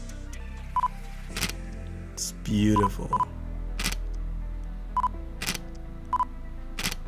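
Shutter of a Nikon Z6 II mirrorless camera fires repeatedly right at the microphone, crisp clicks interleaved with short focus-confirmation beeps over a steady hum, with a brief spoken remark in the middle.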